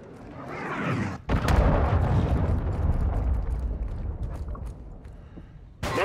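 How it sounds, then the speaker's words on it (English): A cruise missile strike in the shooter game Call of Duty Modern Warfare II lands as a loud, rumbling explosion that roars for several seconds after a brief lull, then fades, with another blast bursting in at the end. "Hostiles launched a cruise missile."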